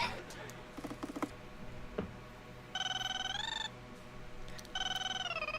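A telephone rings in two bursts of electronic trilling, each about a second long, over a murmur of background noise and voices.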